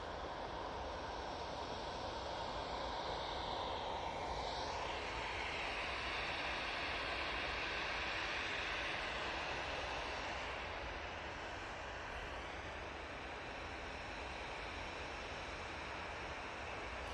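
An airliner touching down at Manchester Airport after a flight from Aberdeen, a continuous distant engine roar with a brief descending whine, swelling slightly then easing off.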